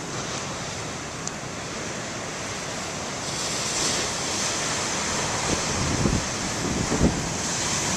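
Ocean surf breaks on a rocky shore on a windy day, a steady wash of noise that swells near the end. Wind buffets the microphone throughout.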